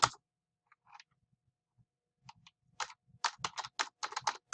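Someone types on a computer keyboard in a quiet room, starting with a few sparse taps and building into a quick, close run of crisp key clicks.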